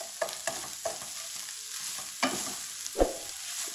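Onions and shredded cabbage fry in a pan with a soft continuous sizzle, punctuated by several distinct stirring scrapes and knocks of a spoon against the pan; no one speaks.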